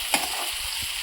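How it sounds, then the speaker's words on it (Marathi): Finely chopped onion fries in a pan for a dhaba-style kaju masala, giving a steady close sizzle with a brief spoon scrape near the start and no talk. "कांदा आपला चांगला गोल्डन ब्राउन होईपर्यंत आपल्याला फ्राय करायचा आहे"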